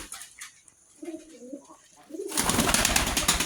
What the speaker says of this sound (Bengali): এখন খামারে চলে এসেছি কবুতরের খামারে